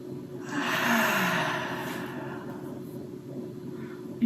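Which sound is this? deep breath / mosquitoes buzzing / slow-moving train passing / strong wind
deep breath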